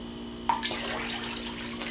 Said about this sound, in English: I'm going to add it to my water.